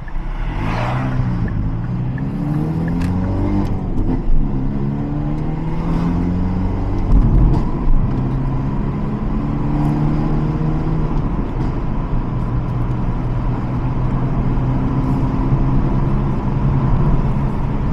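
A Hyundai Elantra N fitted with a downpipe, driving in eco mode, hums with a subdued, steady engine drone heard from inside the cabin, its tones rising and falling gently with speed and no one talking.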